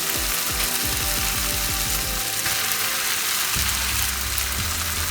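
Cooked rice stirred in a hot pan with green and red chili sauces for vegetarian fried rice, a steady sizzle under repeated rhythmic scraping and clattering of a utensil against the pan, loud and close.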